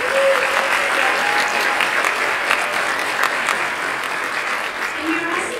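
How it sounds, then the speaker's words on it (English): Audience at a junior high school 7th grade winter concert applauds the pianist, a steady, dense round of clapping filling the room throughout, with a faint voice briefly audible beneath it. "round of applause"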